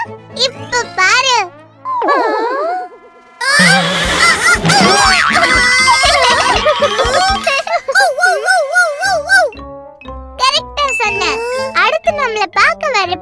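Duck and chicken calls in an animated children's play scene with toys: repeated honking quacks and clucks, mixed with children's voices and jingling music.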